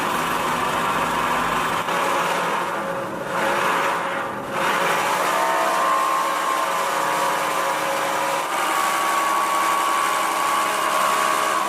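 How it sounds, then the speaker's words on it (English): A homemade flat sandpaper machine with a motor speed controller powers up, giving a steady, moderately loud motor hum and whine that holds for about twelve seconds with slight dips in pitch. "Now, we turn the controller knob and power up the machine."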